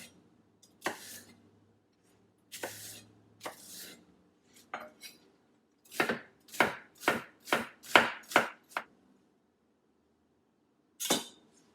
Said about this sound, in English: now that the bok choy is nice and clean, it's time to give it a chop